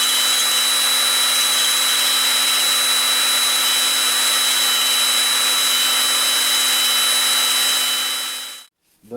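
Honing stones spin inside a Volkswagen 1600 engine wrist pin bushing to enlarge it, a steady high-pitched whine with a grinding hiss, loud and close, running evenly until it abruptly stops near the end.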